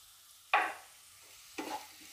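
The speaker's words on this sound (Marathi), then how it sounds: "परतून घ्यायचे शेंगदाणे व्यवस्थित." Crushed raw peanuts and radish leaves are stirred in a hot pan, two separate scraping, sizzling strokes about a second apart, close and moderately loud, with no talk.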